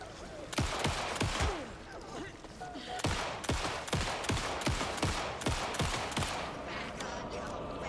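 Rapid volley of shotgun blasts in the survival horror game Alan Wake II, a dozen or more sharp, loud bursts firing in quick irregular succession over dense ambient game noise, with no one talking.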